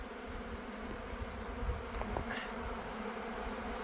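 Honey bees buzz steadily around a feeder of dry pollen substitute in autumn, a dense continuous hum of many insects filling the air with no talk.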